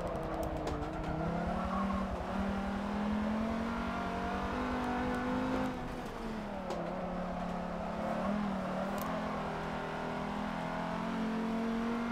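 A Lamborghini Miura engine in a racing video game holds a steady, loud, continuous drone for about twelve seconds, its pitch rising and dipping slightly as the car accelerates along a straight.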